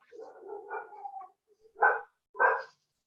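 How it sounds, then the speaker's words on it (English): Dogs barking nearby: a rough, drawn-out bark blends into a whine, then two short sharp barks follow after a brief pause. "Dogs found something to bark at."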